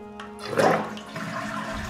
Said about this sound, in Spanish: Y ya que la cerramos, hay que descargar el agua.